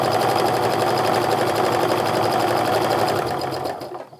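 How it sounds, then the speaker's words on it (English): A sewing machine stitches a quarter-inch seam on a charm pack Christmas stocking. It runs as a steady, loud, close mechanical whir for about four seconds, then slows and stops. "Now once I finish sewing down one side, I'm also going to sew a 1/4-inch down the other side as well."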